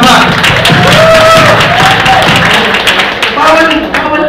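An audience claps in a room, a loud, dense patter of hand claps running throughout, with voices talking over it.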